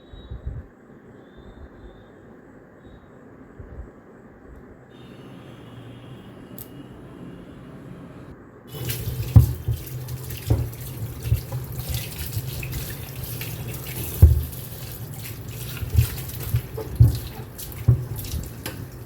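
Tap water runs into a kitchen sink while mangoes are washed, a steady rushing stream starting partway through with splashes and knocks of fruit against the basin, fairly close and loud.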